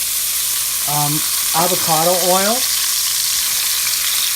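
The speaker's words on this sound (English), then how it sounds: "throw in your garlic and your peppers into your frying pan" Steady broadband sizzle of garlic and peppers frying in avocado oil in a pan runs throughout, with someone talking briefly over it near the middle.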